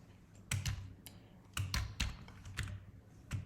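Typing on a computer keyboard: clusters of crisp key clicks in uneven bursts, close and fairly quiet, with short pauses between groups of keystrokes and no talking.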